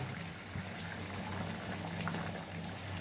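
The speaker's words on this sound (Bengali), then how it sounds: "এবার আবার একটু ভেজে এবার জল দিয়ে দেব। জলটা হয়েছে গরম জল।" Hot water goes into a frying mutton and potato curry, leaving a soft, steady bubbling and hissing wash that stays even and fairly faint throughout, with no one speaking.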